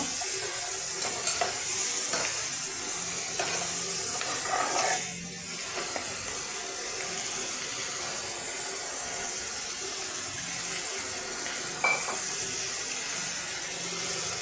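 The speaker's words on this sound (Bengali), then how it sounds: "একটু ভেজে নিয়ে হালকা একটু জল দিয়ে দিব" Potatoes and peas for a Bengali vegetarian curry frying in a pan, a steady close sizzle with occasional stirring scrapes at a low level, with no talking.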